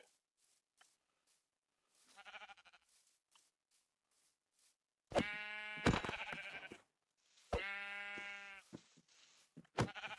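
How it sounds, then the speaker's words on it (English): Sheep bleating in the Minecraft video game, a few short bleats spaced apart with a couple of louder, harmonic-rich calls standing alone without talk. "I'm pretty sure I heard a sheep over here."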